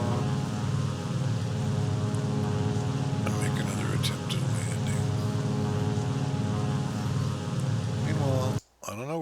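A propeller airplane engine drones loudly and continuously in a flight combat video game, a steady harmonic buzz with small shifts in pitch, broken by a brief cut just before the end.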